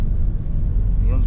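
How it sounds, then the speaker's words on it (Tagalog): A 2021 Nissan NV350 Urvan base-model van engine drones with a low, steady rumble inside the cabin while a person talks over it. "Rinig na rinig mo yung makina."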